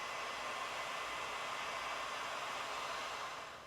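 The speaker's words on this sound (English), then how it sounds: "We're going to shrink them down with a heat gun." A heat gun blows steadily to shrink heat-shrink tubing over wire connections, giving a soft, even, close airy hiss with no breaks that fades slightly at the end.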